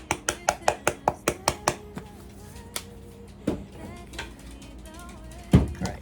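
Vegetable stuffing with onion, butter and garlic-herb seasoning being stirred in a bowl for Thanksgiving: a quick run of sharp utensil clinks and scrapes against the bowl, then sparser knocks and a louder thump near the end.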